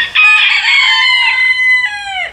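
Rooster on a farm crows one loud, close cock-a-doodle-doo lasting about two seconds, clear and strong with a falling tail, no talk over it.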